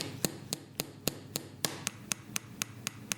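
A steady series of about a dozen sharp, light taps at an even pace, fairly close, with a faint background hiss: fingerboard ollie pops on a board made of newspaper.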